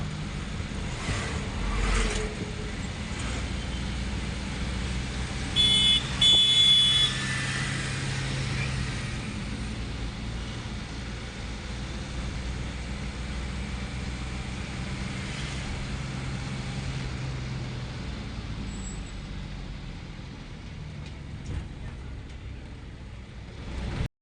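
A loaded goods truck with its engine running after being weighed, a steady low rumble that stays fairly loud throughout, with a brief louder burst and some clatter early on.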